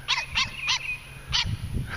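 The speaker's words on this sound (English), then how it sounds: "Hey, yappy dog." A small yappy dog in a garden barks in a quick burst of four sharp yaps, then a short pause and two or three more, fairly close and loud with no talking.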